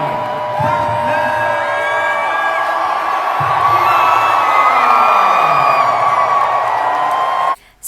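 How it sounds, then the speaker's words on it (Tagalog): A packed arena crowd roars and whoops for boxer Manny Pacquiao, loud sustained cheering and shouting that swells and holds before cutting off abruptly near the end. "Sa pagtawag niya sa pangalan ni Manny Pacquiao, todo hiyawan ang lahat ng tao sa arena"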